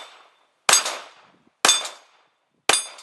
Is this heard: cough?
no